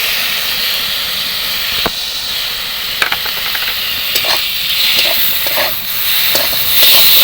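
Onion paste and chili powder sizzle with cauliflower in a pan, a steady close frying hiss with scattered stirring clicks and scrapes, no talking.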